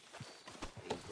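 A horse in the video game Red Dead Redemption 2 clip-clops along in a quick, even rhythm of hoofbeats, fairly faint.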